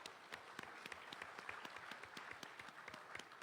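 Audience at a political party gathering applauds steadily, many hands clapping in a dense, even patter that stays at a moderate level throughout with no voices over it.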